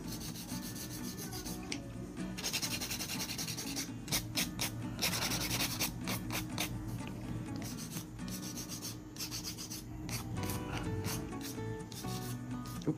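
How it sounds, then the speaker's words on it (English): A nail drill files an acrylic nail with a persistent abrasive grinding and rubbing drone, broken by repeated short rasping strokes, close and steady with no talking. "if you have bumpy application, you have to drill it first with a drill"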